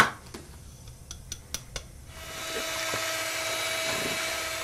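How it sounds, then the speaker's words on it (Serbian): Eggs and sugar being whipped for sponge cake batter with an electric mixer, a steady whirring drone starting after a few light clinks of bowl and utensils, continuing alone at moderate loudness. "Umutit ću jaja sa šećerom i dodat ću ostale sastojke."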